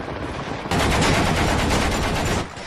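A sustained burst of machine gun fire from a Soviet-era military scene, loud and close, a rapid rattling stream of shots lasting about two seconds before cutting off.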